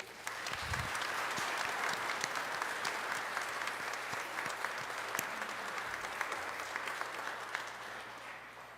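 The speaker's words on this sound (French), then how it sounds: "Je crois que nous pouvons l'applaudir." A church congregation at a Sunday Mass in a Gatineau parish applauds the pastor, with steady, dense clapping from many hands that fills the room and carries evenly for several seconds before tapering slightly.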